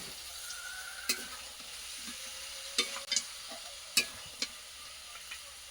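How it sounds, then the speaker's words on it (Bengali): Tomato sautéing in a pan with masala for a country chicken curry, a soft sizzle broken by several crisp spoon clicks and scrapes as it is stirred; no voices. "আর টমেটোটা কিন্তু এবার দিয়ে দেবো দিয়ে আবার একটু কষা করবো"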